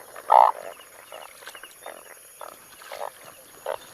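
Frogs croak outdoors in rainy weather, with one loud close croak followed by a series of fainter, evenly spaced calls against quiet background hiss.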